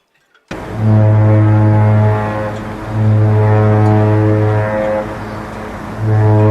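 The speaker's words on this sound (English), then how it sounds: "Don't know if Britannia's going to give us a honk." The cruise ship Britannia sounds a deep, loud foghorn-like horn while departing the Port of Southampton, with three long blasts separated by short gaps, carrying across open water.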